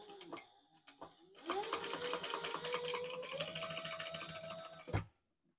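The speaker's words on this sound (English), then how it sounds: "we're just going to baste this in place for now." A sewing machine bastes a fabric strap in place for a retro-style sling bag: after a few soft handling clicks, one close, continuous run of stitching lasts about three and a half seconds, then stops abruptly.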